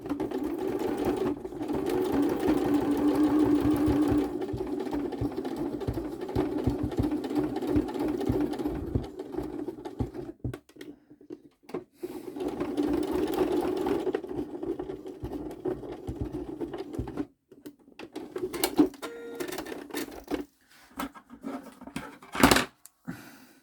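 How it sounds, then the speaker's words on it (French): A sewing machine runs a straight reinforcing seam over denim for a small pouch, whirring in several loud bursts separated by short pauses and faint handling clicks. "je viens juste remettre une couture droite dessus"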